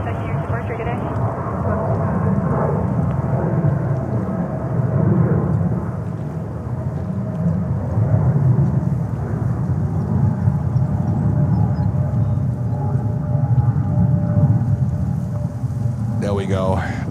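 A JetBlue jet takes off at JFK airport in New York, a loud, sustained broad roar that holds steady throughout, with a person talking over it.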